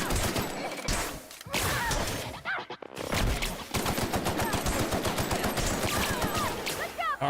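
Rapid video-game gunfire aimed at the player in The Outer Worlds, loud bursts of automatic shots with a brief lull, then a sustained rattling volley to the end.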